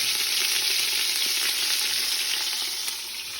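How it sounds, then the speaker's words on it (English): Italian sweet and hot sausage browning in a pan, giving a loud, steady close-up sizzle with light crackling throughout and no voices. "Now I got the sausage browning."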